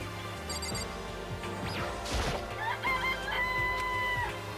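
Clucking chickens from Danganronpa: Trigger Happy Havoc, several squawks and cackles mixed with a crashing smash partway through, all over continuous game music with no voices.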